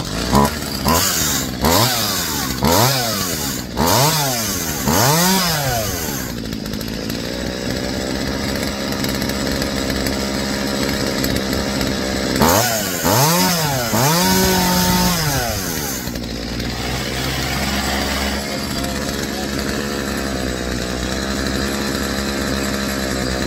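A Poulan gas chainsaw awaiting a fuel line replacement runs loud and close, its engine repeatedly revving up and dropping back before settling into a rough, uneven idle.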